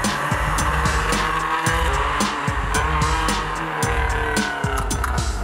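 A race car running test laps on a track, its engine note rising and falling in repeated revving cycles with possible tire squeal, loud and continuous with no talking.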